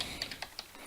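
Computer keyboard typing, a few quick, light key clicks in an irregular run, close and quiet with no talk.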